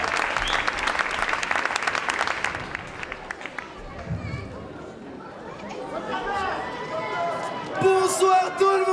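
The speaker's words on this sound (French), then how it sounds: "On l'applaudit bien fort, s'il vous plaît." Audience at a comedy show applauds, a strong burst of clapping and cheering that fades after a few seconds into murmuring, then a voice speaks and brief music rises near the end.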